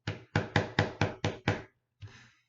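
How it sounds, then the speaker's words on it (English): A dragon rapping on a door with its claw, seven quick hard knocks in a steady run, then a short pause and one softer rustling knock, loud and close. "So he knocked on the door."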